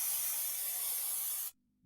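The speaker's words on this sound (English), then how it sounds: "gonna quickly spray that." A short, steady burst of hairspray hissing onto a wig, loud and close, lasting about a second and a half before cutting off abruptly into silence.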